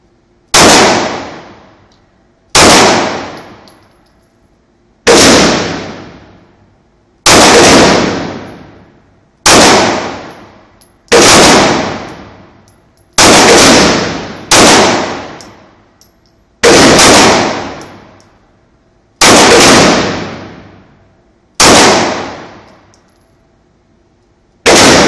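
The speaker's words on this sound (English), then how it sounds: "It's Chris shooting it." An H&K P30 9mm pistol fires about eleven sharp, loud shots at a steady pace of roughly one every two seconds, each crack followed by a short ringing decay, with no talking.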